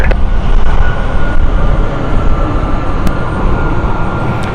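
A loud, steady roar from an aircraft on the Düsseldorf flight at London City Airport fills the whole stretch close by, a dense broadband rumble with no talking.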